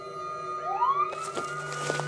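A police car siren used as a drama sound effect wails upward in pitch, then holds a steady, fairly loud tone, heard alone.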